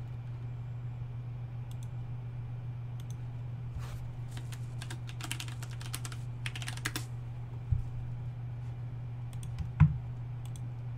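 A password being typed on a computer keyboard: faint, irregular key clicks come in scattered bursts over a low steady hum, with a couple of sharper taps near the end.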